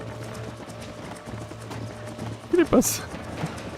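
Rapid hoofbeats of a galloping horse in the Western video game Red Dead Redemption, steady clip-clop under game sound with a brief whinny-like burst, while a voice talks over it.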